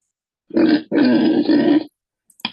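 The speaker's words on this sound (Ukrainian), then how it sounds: "Хрюкає свинка." Several loud, close pig-like grunts in two bursts, then a brief short grunt after a pause; no talking.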